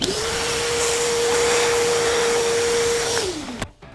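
A battery-powered impact driver with a 5.0 lithium battery and 3/8 inch bit runs on speed 3, a steady high whine holding for about three seconds before spinning down abruptly.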